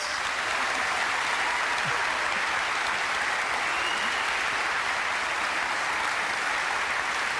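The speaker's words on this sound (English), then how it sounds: "Will you give them a round of applause?" A live television studio audience gives a round of applause for guests on a paranormal show, a steady, even wash of many hands clapping at moderate level that carries on without a break.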